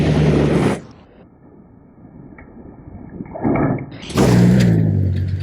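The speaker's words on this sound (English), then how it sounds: "That clip is key because you can hear the rubbing from the outside of the vehicle." Tires on 37-inch tires scraping and rubbing against stock Ford Raptor fenders, heard from outside the truck: two loud, rough bursts of grinding noise separated by a quieter stretch of low rumble.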